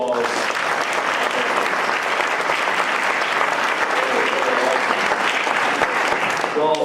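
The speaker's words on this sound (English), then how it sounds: "Can we give them a round of applause?" A conference audience at the Livable Communities Summit closing remarks gives a steady round of applause, dense clapping that holds at an even level for the whole stretch.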